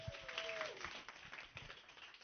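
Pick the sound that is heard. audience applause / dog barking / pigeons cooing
audience applause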